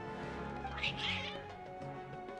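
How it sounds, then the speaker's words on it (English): Agitated cats in the video game Genshin Impact let out a couple of drawn-out, whining meows over a steady background music bed. "Your cats seem pretty worked up."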